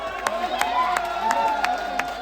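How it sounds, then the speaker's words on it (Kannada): Audience at a sangeet night claps and cheers, a short burst of rhythmic claps over crowd noise and voices. "ಆ ಸಾಂಗ್ ಅನ್ನು ಎಡಿಟ್ ಮಾಡಿದವರಿಗೆ ಒಂದು ಜೋರಾದ ಚಪ್ಪಾಳೆ ಬೇಡಿ."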